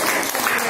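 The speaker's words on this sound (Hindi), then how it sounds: "तालियां बजाओ अपने सबके" Schoolchildren in a classroom applauding, a brief, loud burst of many small hands clapping in a fast, even wash.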